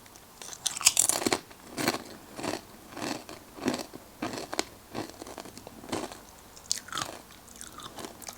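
Crunchy food bitten and chewed up close in an ASMR eating session alongside Samyang fire noodles, with about a dozen crisp bites and chews spaced steadily across the stretch, no talking.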